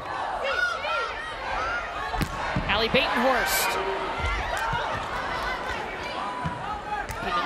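Volleyball arena crowd at a 2023 NCAA regional semifinal between Nebraska and Georgia Tech, with cheering and chatter swelling behind a commentator, punctuated by sharp ball slaps.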